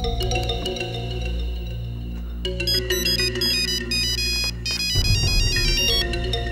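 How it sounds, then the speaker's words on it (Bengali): A phone ringtone rings on and on unanswered, a loud, repeating electronic melody of bright tones that carries through the whole stretch with no one speaking. "ফোনটা ধরে না।"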